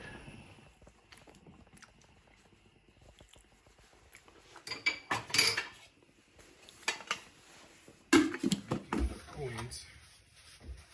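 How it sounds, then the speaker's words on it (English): A pot of phutu, the crumbly Zulu maize porridge, being stirred, giving scattered scraping and clinking knocks of a spoon against the pot, sparse early and busier in the second half, with a few louder clanks. "keep track of how many times I've stirred it"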